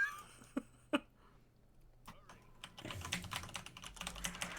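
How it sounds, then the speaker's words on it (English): Computer keyboard typing picks up after a few scattered clicks, becoming a dense run of rapid clacks over quiet background hum, with light voice sounds in between. "now I can hear your keyboard"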